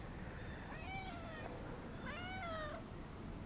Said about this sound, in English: There's a 13-year-old cat.